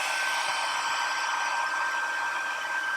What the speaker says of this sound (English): I'm going to grab my heat tool here